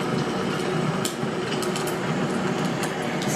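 Crackling fireplace ambience played through a TV as background atmosphere, with a steady dense hiss and scattered small pops and snaps over about three seconds, with no talk.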